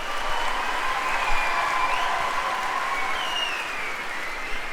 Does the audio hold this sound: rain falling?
no